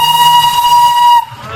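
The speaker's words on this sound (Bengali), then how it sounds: "রাস্তায় যেতে যেতে সেই বইতে পড়া টয় ট্রেনের কিন্তু দর্শনও হয়ে গেল।" A Darjeeling toy train lets out one loud, sustained steam whistle lasting just over a second before cutting off abruptly, leaving a quieter background.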